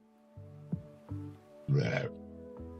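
A person lets out a burp, a short guttural belch rising over faint background sounds, preceded by a couple of smaller throaty hiccup-like bursts, close and fairly quiet.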